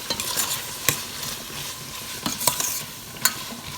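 Prawns and drumstick pieces frying in a pan for a Sri Lankan curry, a steady close sizzle with occasional stirring scrapes and clinks of a spoon against the pan.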